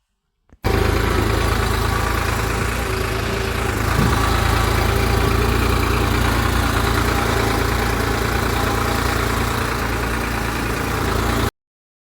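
A tractor engine, hauling trolleys loaded with bricks, runs steadily at idle, a constant low rumble that holds without change and then stops abruptly.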